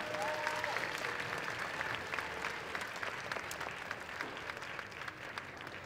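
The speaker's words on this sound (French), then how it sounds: "on peut encore l'applaudir bien fort!" Audience applause at a cosplay contest in a large hall, a dense, steady round of clapping heard from a distance with faint crowd murmur and a few whistles.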